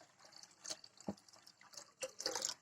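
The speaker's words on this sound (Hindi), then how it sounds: "वाटर डाल लीजिए गैस स्टोव की कढ़ाई में" Water poured into a kadhai (wok) on a gas stove for boiling Maggi noodles, heard as a few short splashing, dripping pulses at close range with no talk.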